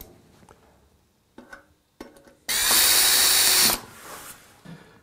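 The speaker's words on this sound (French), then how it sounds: "il suffit de la visser." A power screwdriver drives screws into a decorative cover plate around a pellet stove's flue pipe, one loud sustained whir of about a second after a few soft handling knocks, then light clatter.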